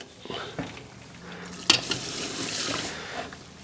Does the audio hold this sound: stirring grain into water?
yes